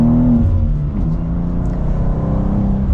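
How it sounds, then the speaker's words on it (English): A BMW M2 engine accelerating hard in second gear, a loud, steady interior drone that holds and builds smoothly over a few seconds with no talking. "this engine just starts pulling"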